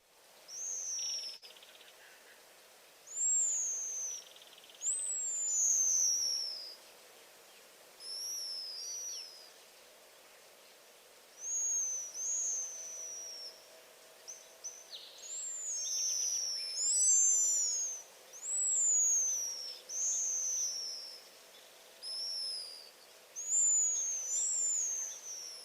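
A recording of colony birds giving a contagious alarm call, played back as repeated clusters of high, thin descending whistles and twitters in overlapping bursts, fairly faint, with no talking.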